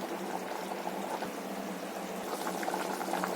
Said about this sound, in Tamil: நல்லா கொதி வரட்டும்.